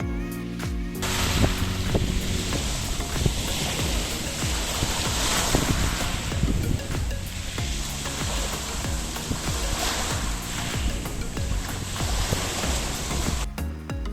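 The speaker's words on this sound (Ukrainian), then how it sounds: "Давайте послухаємо шум моря." Sea waves wash onto the shore at Nice in a steady, broad roar, with gusty wind buffeting the microphone and no one speaking.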